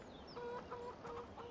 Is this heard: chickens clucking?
yes